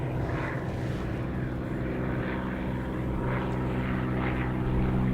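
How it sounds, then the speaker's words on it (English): At Dallas Love Field airport, a propeller airplane's engine drones loudly and steadily nearby as it taxis, a constant throbbing hum with no voices. "we got a little tail dragger here"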